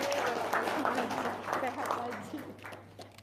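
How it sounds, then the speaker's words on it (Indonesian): An audience claps together in a broad, steady wash of applause from the first moment, fading gradually toward the end, with no talk over it. "Tepuk tangan dong."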